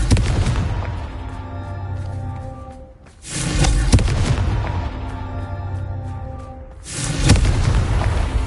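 Loud booming blasts from a fire-based blasting curse in a wizard video game, two heavy explosions with broad rumbling bursts separated by a short lull, the second erupting near the end.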